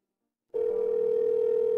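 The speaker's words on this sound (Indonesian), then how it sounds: "Tuan muda tidak menjawab panggilan." Telephone call going unanswered: silence, then a single steady electronic line tone starts abruptly and holds evenly, clear and close, with no voices.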